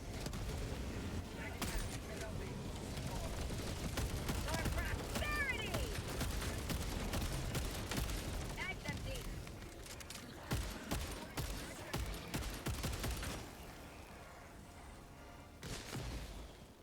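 Gunfire from a weapon in the video game Helldivers 2 sounds as sustained rapid shots with booms and explosions, dense and continuous, thinning out toward the end, while players talk over it.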